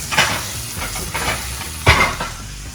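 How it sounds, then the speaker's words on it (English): Butter sizzles and spatters in a hot pan while a T-bone steak is basted, with repeated scraping strokes of a spoon or utensil against the pan, three stronger bursts standing out near and close. "Basting a little bit more. Put it on the side of the pan because it's almost done."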